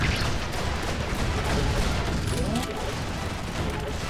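Rapid, continuous gunfire in the shooter game Majestic 12, a dense unbroken barrage of shots with crashing impacts, loud and close throughout.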